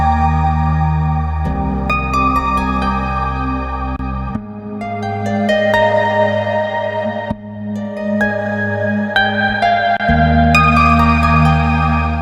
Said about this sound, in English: So I'm gonna run my harp through this reverb pedal, and then run it into the compressor